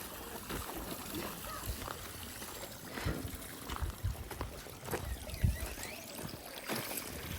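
Water dripping and splashing inside a house, irregular small splashes and trickles near the listener with low background noise.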